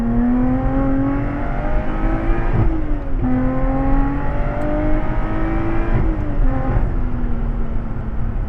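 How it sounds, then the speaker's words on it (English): Lotus Exige Sport 410 on track at Anglesey, its engine loud and close with sharp throttle blips on downshifts, pitch dropping and snapping back around three and six seconds amid steady drivetrain roar. "God, the blips on it are so nice"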